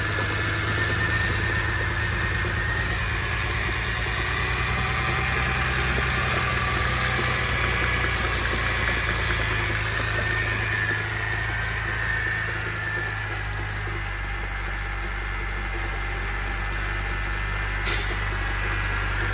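A BMW E90 engine idles after a motor swap, running with a slight misfire as a steady, loud, close rumble with a faint uneven knock throughout, with no voices.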